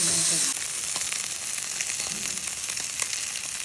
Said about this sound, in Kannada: ಫಿಶ್ ಒಂದು ಫ್ರೈ ಆಗಿದೆ.